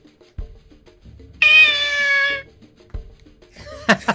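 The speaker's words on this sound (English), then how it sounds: "only Shenmue is a cat noise instantly recognisable as a character" A kitten meows once in the Shenmue video game, a clear, close, strained cry of about a second set against a quiet, soft background thumping, with a short higher squeak near the end.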